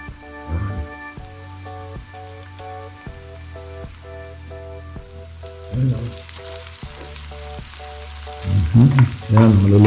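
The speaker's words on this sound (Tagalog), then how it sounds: "maluluto na po siya yung patatas" Potatoes frying in a pan for a Filipino potato and egg dish, a steady crackling sizzle under a repeating musical background, with occasional louder stirring bursts close by.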